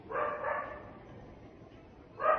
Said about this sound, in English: The dogs are supposed to be kept out, isn't it?